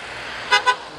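Two quick musical telolet horn blasts ring out from a truck moving in a convoy, each loud and tonal with harmonic notes, separated by a short gap over steady road rumble.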